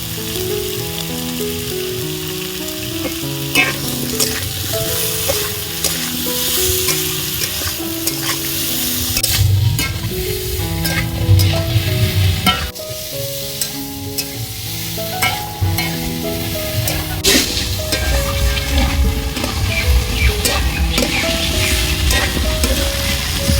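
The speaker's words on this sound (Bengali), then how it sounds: "আলু আর পেঁপেটা পাঁচ থেকে সাত মিনিট মতন ভালো করে ভেজে নিয়েছি" Potatoes and papaya fry in a pan for a mixed vegetable curry, a steady close sizzle broken by repeated scraping and stirring strokes of a spatula, with no talking.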